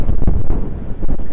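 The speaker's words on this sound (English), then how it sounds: "It is quite windy out." Strong gusty wind buffets the microphone outdoors near a road, loud rumbling bursts over about a second and a half.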